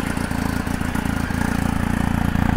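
A BMW R 1250 GS Edition 40 Years motorcycle with its original exhaust idles cold, giving a steady, even low throb that carries on alone without revving.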